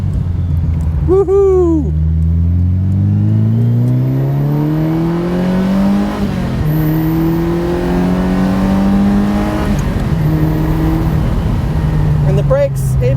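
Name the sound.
Ferrari 328 GTS engine accelerating after downshift from third to second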